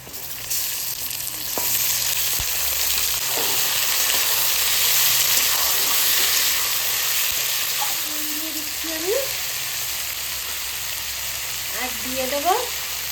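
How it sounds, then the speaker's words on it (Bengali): Goat meat is added to onions already frying in oil, giving a steady broadband sizzle throughout with a few brief clinks and scraping sounds, and no one speaks. "পেঁয়াজটা তেলে ভাজা হয়ে গেছে এবার মাংসটা দিয়ে দেবো"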